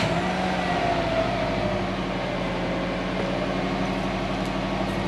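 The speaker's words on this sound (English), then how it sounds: "Nearly forgot to do a start up on the stock exhaust." A Subaru Forester SG XT on its stock exhaust, its turbo boxer engine turning over and settling into a steady low idle rumble, moderately loud and close, with no talk.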